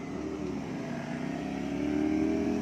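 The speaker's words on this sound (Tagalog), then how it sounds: "Eto magagandang motor, oh." A V-type motorcycle engine hums steadily nearby, its low throbbing tone rising slightly in pitch and loudness toward the end.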